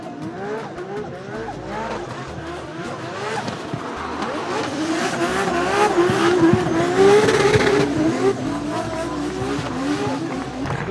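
A Volvo drift car at Mondello Park, engine revving hard with long, wavering tire squeals and skids, loud and continuous, rising to a peak midway before easing slightly, some crowd or voices faintly underneath.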